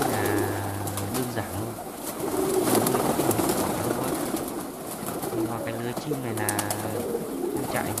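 Pigeons coo in a simple pigeon loft with nesting birds, in late afternoon; repeated low throaty coos run steadily close by, under a person talking throughout.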